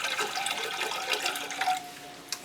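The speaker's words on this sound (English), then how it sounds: "that's RO water, so that's just pure water so far" Reverse-osmosis water poured for feeding Miltonia orchids: a steady, close trickle and splash of running water that thins out toward the end.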